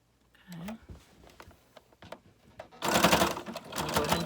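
A sewing machine zigzag-stitches through a paper bag for a junk journal; quiet handling clicks and a brief murmur come first, then a loud burst of rapid mechanical needle chatter starts partway through and runs close to the end.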